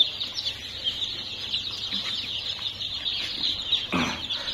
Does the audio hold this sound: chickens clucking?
yes